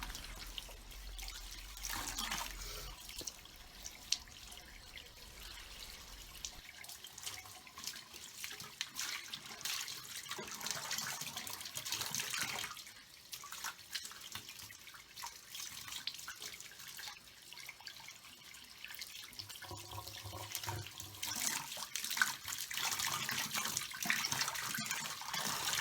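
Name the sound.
running tap water rinsing a wig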